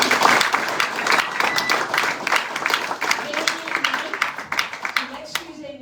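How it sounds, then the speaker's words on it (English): An audience claps for a speaker named Dominique at the close of a real-estate talk, a dense burst of applause fading out over several seconds with a voice briefly heard over it. "Let's give her a round of applause"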